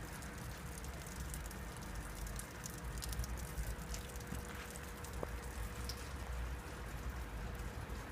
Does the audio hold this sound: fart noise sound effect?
no